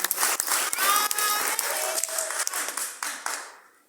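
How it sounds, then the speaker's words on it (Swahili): A church congregation claps for the scripture readers, a dense burst of close applause that holds steady and then fades out, with a few voices mixed in. "Basi tutachapa makofi ajili ya wasomaji."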